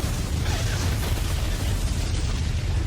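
A warship blowing up at the climax of a film, heard as a sustained, heavy explosion rumble with deep low-end roar and a dense, steady wash of debris noise for about three seconds.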